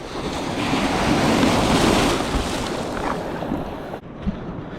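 Ocean waves slosh and rush against a small fishing kayak at sea in wind, loud and close for several seconds before easing off, ending with a brief splash.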